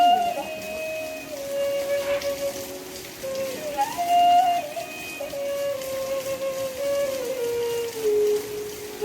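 Steady rain falls over an outdoor religious gathering in Samalkha, Haryana, a continuous patter heard under a sustained melodic tune throughout.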